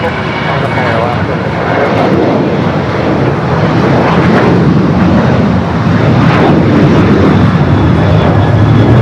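A United airliner takes off from the south side runways at LAX, bound for Seattle, with a loud, close, rumbling jet roar that swells slightly and persists throughout, with some talk mixed in.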